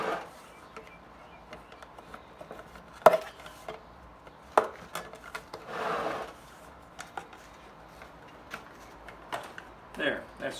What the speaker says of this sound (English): I start working this lid up off of the seam here